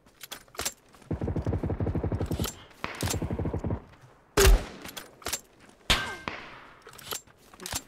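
Gunfire in the battle royale shooter PUBG, two rapid automatic bursts at mid distance followed by scattered single loud shots and metallic clangs, with quiet gaps between.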